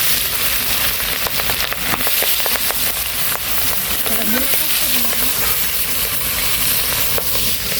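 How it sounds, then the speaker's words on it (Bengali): Fish frying in a pan gives a steady, broad sizzle across the whole stretch, with occasional crackles and faint background sounds mixed in. "মাছ ভাজা শেষ এখন হচ্ছে মাছটা রান্না করবো"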